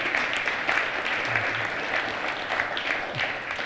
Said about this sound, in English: Yes, give God a round of applause.